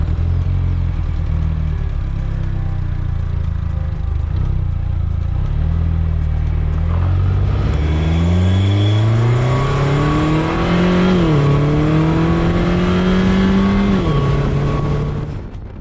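A Vanderhall Venice Speedster single-seat three-wheeler idles with a steady low engine rumble, then revs up repeatedly, its pitch climbing, peaking and dropping back, loud and close throughout.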